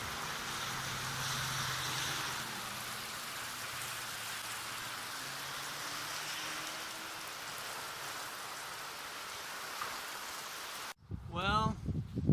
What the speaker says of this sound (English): Just wave after wave as the rain's coming down on the fields over there.